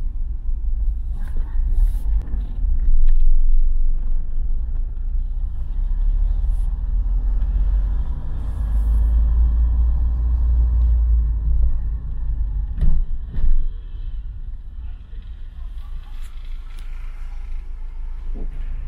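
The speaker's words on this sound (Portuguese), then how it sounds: "vou começar a andar com o carro um tiquinho" A car pulls away slowly from a standstill while a speed sensor is being tested, its engine rumble steady and close with a brief surge partway through, and no voices over it.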